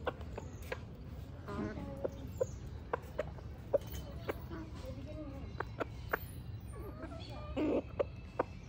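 Chickens clucking softly nearby while eating chanachur snack mix, with scattered sharp pecking taps, while people talk quietly in the background.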